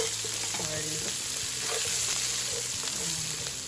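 Onion frying with garlic in a pan for a seafood and vegetable dish gives a steady, close sizzle that runs the whole time beneath soft background music.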